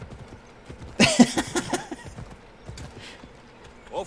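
Horse hooves clip-clop in the Assassin's Creed Odyssey video game: a loud burst of rapid clopping starts about a second in, then thins into scattered fainter steps, with occasional voice underneath.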